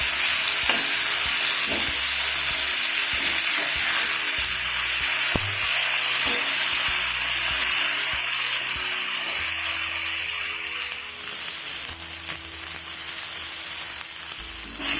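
Kerala-style fish frying on a banana leaf in a pan, a loud, continuous close sizzle and crackle of hot oil with occasional scraping as the pieces are moved, and no talking.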